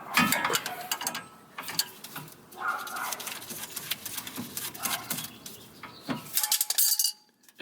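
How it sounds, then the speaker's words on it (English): Ratcheting wrench clicks loosening a tie rod bolt on a Nissan 350Z, a run of quick mechanical clicks and metal scrapes, close and fairly loud, in bursts across the clip. "So now that we've loosened that bolt up"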